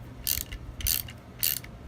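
A ratchet wrench tightens bolts while a Wilwood brake kit goes onto a Datsun 510, giving three short bursts of rapid clicking, close by with no talk.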